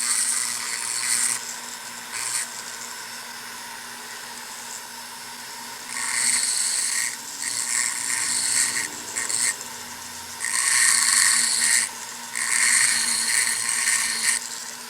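A small tool chamfering the holes of a 1975 Yamaha YZ80 crankshaft, close whirring grinding bursts of a few seconds each, separated by quieter pauses, no speech.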